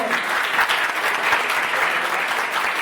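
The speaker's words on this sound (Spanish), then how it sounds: "Un aplauso fuerte, por favor." Sustained applause fills a literary circle event honoring a performer and his guitar accompanists, a dense even patter of many hands at close range.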